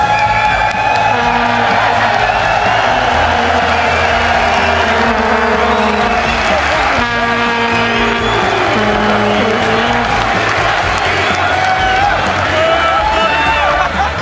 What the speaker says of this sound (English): as you can hear, the audience just brings a whole level of energy